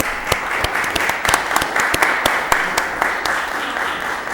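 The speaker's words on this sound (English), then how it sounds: "Give them a round of applause." An audience at a school committee meeting applauds, a dense, steady wash of many hands clapping with sharper individual claps standing out, sustained throughout at fairly close range.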